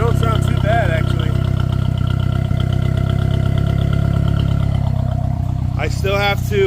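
A turbocharged single-cam KA24E engine in a Nissan S13 idles with a steady, lumpy low rumble close by, and short bursts of background voices cut in near the end.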